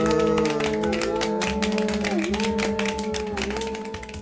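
Rapid hand clapping, a steady stream of sharp claps over sustained music with singing tones, loud and continuous.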